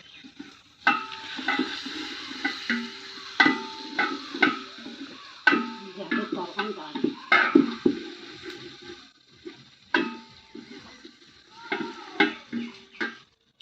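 Mung dal being fried for vegetable khichuri sizzles softly while a spoon scrapes and knocks against the pot in irregular clinks, close and fairly quiet.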